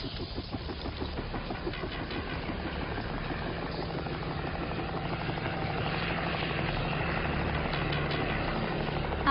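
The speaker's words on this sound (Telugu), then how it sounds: "ఆర్మీ హెలికాప్టర్ మళ్ళీ వచ్చిందే" An army helicopter drones overhead with a steady, continuous rotor chop and engine hum that slowly grows louder over several seconds, with no voices.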